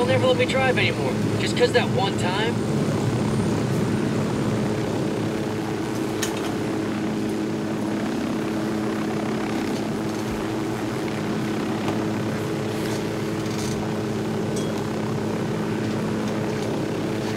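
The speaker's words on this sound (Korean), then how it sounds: "헬기 타고 갑시다" Helicopter flight in Ghost Recon Wildlands, a steady rotor and engine drone holding level throughout, loud and close, with someone talking over it.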